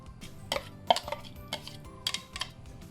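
A spoon scrapes and clinks against a bowl while chilli paste for steamed fish is mixed, producing a few sharp, close taps in an uneven rhythm.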